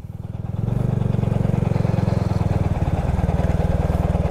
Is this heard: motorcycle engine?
yes